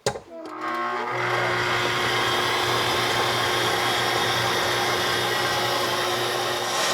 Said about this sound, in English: This is just my mock mill attachment for my KitchenAid that I have.